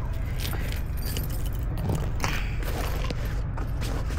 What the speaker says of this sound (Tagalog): lalabas ko pala yung susi ko